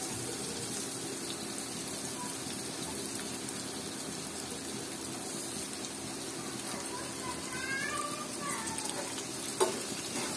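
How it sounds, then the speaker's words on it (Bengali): Tengra fish dropped into a pan of mixed spices, giving a steady close sizzle and frying hiss with faint stirring and a small clatter near the end; no talking. "এখন আমি ট্যাংরা মাছগুলো দিয়ে দেব।"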